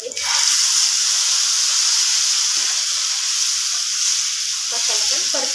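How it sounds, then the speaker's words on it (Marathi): Cumin seeds drop into hot oil and give a loud, sharp sizzle that bursts at once and then holds as a steady hiss, with a few light stirring clinks near the end. "आपलं तेल आता छान गरम झालंय. आता यामध्ये मी थोडेसे जिरे टाकणार आहे"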